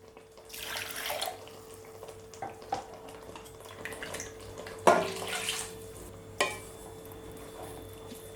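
Water poured into a pan of sautéed tomato and cashew paste for butter chicken masala, a faint, soft stream with a few light clinks, heard alone and without speech.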